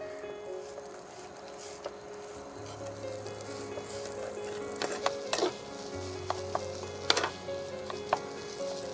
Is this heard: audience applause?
no